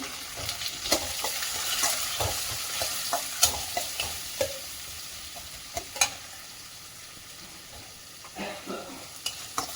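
Chopped onion fries in a pan for pongal, sizzling steadily under repeated close scrapes and clinks of a spoon stirring, with sharper knocks near the end, and no voices.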